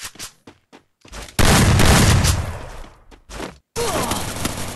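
Gunfire from a Free Fire Clash Squad battle royale match crackles in loud bursts, a short scattered volley followed by a long sustained roar of shots and another heavy burst, close and dominant with no voices.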